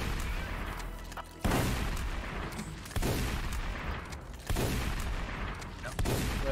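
Heavy weapon gunshots boom in the retro first-person shooter Forgive Me Father, four loud blasts spaced roughly every one and a half seconds over a rumbling game soundscape, with someone talking in between.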